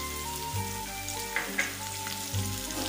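Finely chopped onion frying in a pan for an Indian arbi (taro root) curry, a steady close hiss and sizzle with occasional stirring clinks over faint background music.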